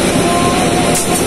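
Brief, steady rumble of the KA Serayu passenger train hauled by a CC201 locomotive, a loud, even roar of running rail travel with no voices.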